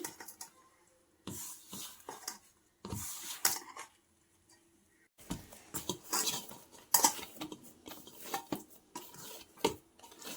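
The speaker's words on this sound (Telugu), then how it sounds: "చూడండి, ఇలాగా సెమీ సాఫ్ట్గా కలుపుకోండి." Puri dough mixed by hand in a bowl to a semi-soft consistency, heard as bursts of close, soft squishing and clattering against the bowl, separated by quiet pauses.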